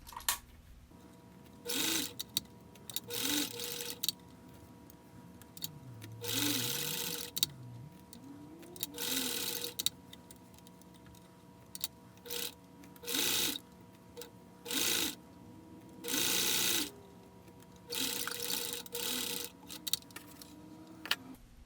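A sewing machine stitching curves on plush toy fabric runs in short repeated bursts, separated by pauses while the fabric is turned, against a quiet ticking background.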